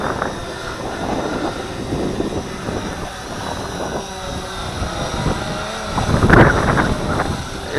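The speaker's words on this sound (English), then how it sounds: "It is gusting pretty good." Gusty wind buffets the microphone outdoors as a small camera drone flies nearby, its steady propeller whine running throughout, with the rumbling gusts swelling and peaking loudly near the end.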